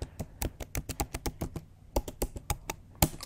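Crisp keystrokes tap out a password on a computer keyboard, around twenty quick, close clicks in an uneven rhythm with a brief pause near the middle and a firmer final press.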